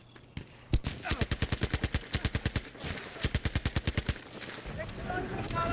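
Rapid automatic gunfire in Battlefield V, set in 1942 North Africa and aimed at a bridge, comes as two long, evenly spaced bursts of crisp shots, then gives way to rumbling battle noise.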